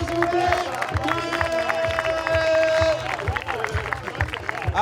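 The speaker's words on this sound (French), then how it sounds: "S'il vous plaît, un tonnerre d'applaudissements pour Silmi" A crowd at an outdoor street basketball event in Neuchâtel claps and cheers for a player, a busy mix of hands, voices and chatter with a strong rhythmic beat thudding underneath.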